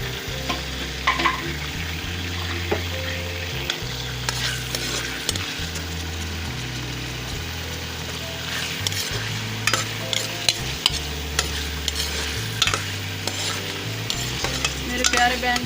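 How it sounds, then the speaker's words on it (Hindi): Chopped onion frying in hot oil in a pot for bhindi gosht, stirred with a utensil; a steady loud sizzle runs throughout, broken by repeated scraping stirs at a regular rhythm, with no talk. "ऑयल गरम हो गया है। बिस्मिल्लाहिर्रहमानिर्रहीम। मैं प्याज शामिल कर रही हूँ।"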